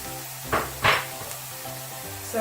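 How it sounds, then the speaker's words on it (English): Chopped onions sizzle in a hot pan, a soft steady frying hiss broken by two brief louder bursts as they are stirred, close and without voices. "just going to saute these onions off a little bit"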